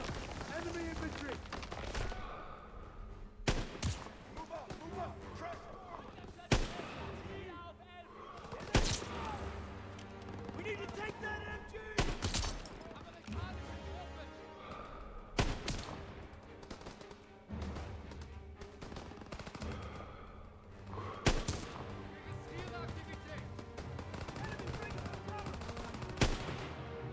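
Repeated bursts of gunfire in Call of Duty: WWII, single shots and rapid automatic volleys, crack sharply over a dense backdrop of battle noise and scattered voices.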